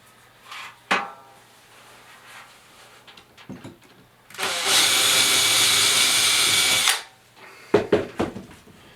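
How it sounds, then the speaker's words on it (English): A power drill whirs steadily for a couple of seconds as it pre-drills into wood of a basement window jamb, with a few clicks and knocks of handling before and after. "So I'm going to pre-drill."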